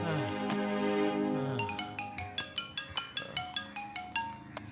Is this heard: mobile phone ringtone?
yes